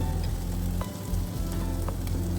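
Curry leaves sizzle and crackle in hot oil for an egg curry, a loud, steady close frying hiss with a few small pops and stirring scrapes, no voices.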